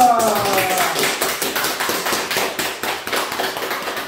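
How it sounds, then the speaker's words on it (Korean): A church congregation claps to welcome a guest speaker at a Sunday afternoon service, many hands giving a fairly loud, rhythmic run of claps, with a brief voice fading out at the start. "우리 나오실 때 박수로 환영하겠습니다."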